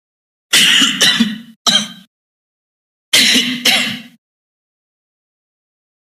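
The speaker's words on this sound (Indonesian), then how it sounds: "Batuk-batuk nih." A man coughs and clears his throat in two close, loud bursts separated by a pause of silence, each with rough hacking and a throaty rasp.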